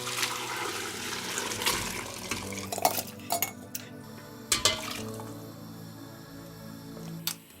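Chunks of boned meat clatter and splash into a large cooking pot, with sharp metallic knocks and wet thuds scattered irregularly over a quiet background.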